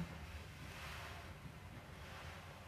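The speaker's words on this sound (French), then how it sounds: "Tu entends le bruit que font les vagues." A soft, continuous wash of waves, muffled and steady, with a low rumble like wind or surf in the distance.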